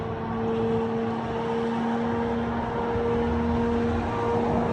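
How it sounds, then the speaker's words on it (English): A military drone in Ukraine whines overhead, a constant high-pitched tonal hum over a rumbling motor, steady and fairly loud for the whole stretch with no voices. "You guys hear that high pitch whining?"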